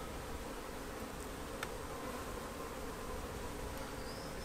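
A steady, soft buzz of honeybees around an open hive hums throughout, with a brief faint tap near the end.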